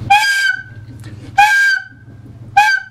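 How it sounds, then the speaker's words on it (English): A handmade penny whistle is test blown in a flute maker's workshop after its windway is treated: three short, bright, clear notes, each about half a second long with brief gaps between, close and alone. "then we test the whistle"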